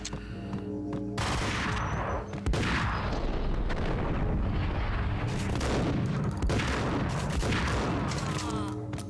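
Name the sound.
shotgun gunfire in the video game Max Payne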